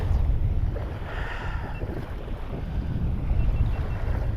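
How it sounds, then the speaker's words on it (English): A strong southeast wind blowing on a beach at night, a constant loud rumble buffeting the microphone with a low roar of surf beneath it. "tonight we have a nasty southeast wind"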